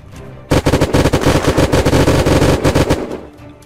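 Rapid automatic gunfire in Unturned during a military base siege, a dense, loud burst of shots lasting about two and a half seconds after a brief quiet start, then tapering off.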